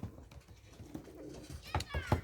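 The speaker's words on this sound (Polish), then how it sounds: "Przepiękne gołąbki, naprawdę polecam wszystkim kolegom, koleżankom takie gołębie." Soft, low cooing of long-distance racing pigeons, several throaty coos rising near the end, with faint rustling in the background.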